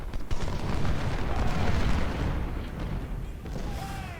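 Booming artillery fire from Union guns in Ultimate General: Civil War rumbles on steadily at mid-distance, with dense low thuds and a broadband crackle layered over continuous battle noise.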